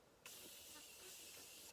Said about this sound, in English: I'm taking the Morphe continuous setting spray, using that really quickly.